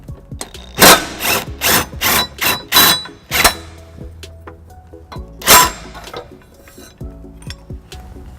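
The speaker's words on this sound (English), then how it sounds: "next I'll be using the cordless impact with a 6-inch extension and 11 millimeter to remove the tow hook" A cordless impact wrench on a 6-inch extension with an 11 mm socket loosens a tow hook bolt on a 2016 Toyota Highlander, hammering in loud rattling bursts, several quick ones in a row, then a pause and one more burst.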